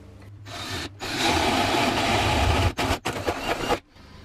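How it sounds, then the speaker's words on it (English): A power drill with a 1-inch bit bores a latch hole through a wooden interior door with a loud grinding rasp, stopping and restarting in short bursts near the end. "swap out that hole saw for a 1-inch bit and drill the hole for the latch"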